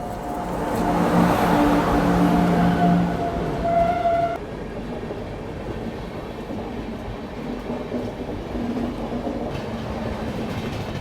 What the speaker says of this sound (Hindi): और ये शायद से बेंगलोर राजधानी आ रही है।